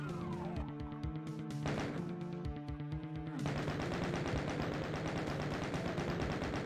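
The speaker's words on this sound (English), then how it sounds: "I'm gonna chain gun them." Rapid, loud bursts of chaingun fire in the video game Final Doom, aimed at imps, rattling in dense continuous volleys with game music and explosive effects underneath.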